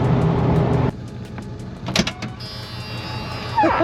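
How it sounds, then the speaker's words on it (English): A 1979 Ford Mustang 5.0 notchback with 4,054 original miles sounds its warning buzzer: a steady, thin electronic tone that starts partway in and holds, following earlier mechanical clunks and a brief door-like thump nearby. "That buzzer is enough to drive someone crazy."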